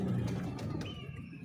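A pigeon gives a soft, low coo that fades out within a second or so, heard close but quietly, with no talking.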